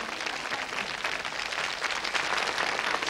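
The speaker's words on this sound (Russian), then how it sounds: "И это им аплодирует студия и миллионы юных и не очень юных телезрителей у своих экранов." A studio audience on a 1995 children's TV quiz show applauds the prize winners with a continuous even wash of clapping that holds steady throughout, with no voices on top.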